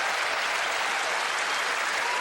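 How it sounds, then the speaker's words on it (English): A tennis crowd at the US Open applauds steadily, a dense, loud wash of clapping filling the stadium with no break, during a Federer–Davydenko semifinal. "Nice to get a round of applause when you question a call."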